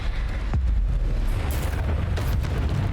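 Bombarda explosion spells in the Hogwarts Legacy video game, heard as a loud, rumbling, sustained boom with scattered blasts and crackling debris throughout, dense and close with no talk.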